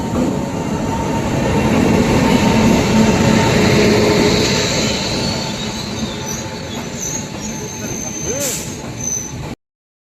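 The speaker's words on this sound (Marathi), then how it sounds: "आता थोड्याच वेळात ट्रेन येणार आहे." A train pulls into a railway station, loud and close, its heavy rumble joined by squealing wheels and a sharp screech near the end, with people talking over the noise.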